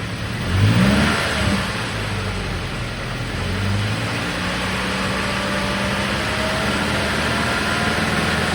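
A first-generation Toyota Tacoma with the 2.7L engine is revved up to about 2,500 RPM and held there, rising from idle and then settling into a steady, close engine drone.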